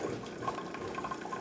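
Hot water pouring in a steady stream from a Jura ENA 9 coffee machine during a service, a soft continuous trickling fill heard close and alone.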